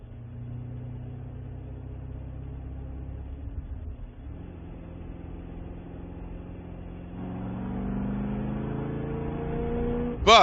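Safety car leading the Spec Corvette field around WeatherTech Raceway Laguna Seca, engines droning and rumbling at low pace, with the pitch rising as the pack accelerates, ending in a sharp burst.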